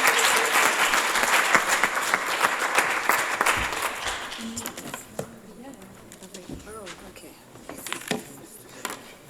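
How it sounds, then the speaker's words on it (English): An audience at a panel discussion breaks into loud applause that fades after about four seconds into scattered claps, shuffling and murmured voices. "please give them a huge round of applause"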